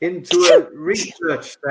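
A single quick sneeze bursts out near the start, mixed in with close conversational voices of people playing a board game.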